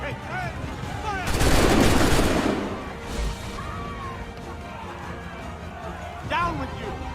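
Gunfire bursts in Assassin's Creed III on Xbox 360, a loud dense volley crashing out for about a second, then scattered shots and battle noise with voices shouting underneath.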